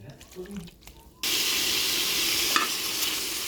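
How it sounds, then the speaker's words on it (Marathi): Chicken is stirred with turmeric and salt in a pan of hot oil. After a quiet start, a sudden burst of sizzling begins and continues steadily, with brief scraping of stirring. "आता याला आपल्याला मिक्स करून घ्यायचे।"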